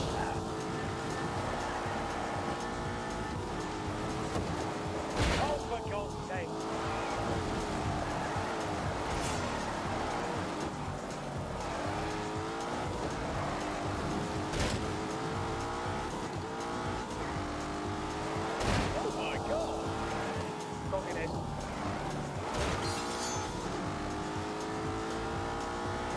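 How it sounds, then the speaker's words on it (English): Twin-turbo 4-litre V8 car engine in The Grand Tour racing video game, droning and revving continuously with tire squeals and shifting pitch, no talking. "It's a 4-litre V8. It has twin turbos. It makes"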